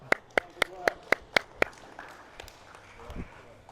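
Children at a youth basketball practice clap for themselves after a drill, seven sharp, evenly spaced claps in unison, then a few softer scattered ones as voices and movement follow.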